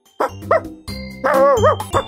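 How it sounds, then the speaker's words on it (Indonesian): A dog barks fiercely in a quick series of loud, close barks and growling yelps, alone without talk, part of a children's folk tale story. "meninggalkan si anjing yang terus saja menggonggong dengan galak"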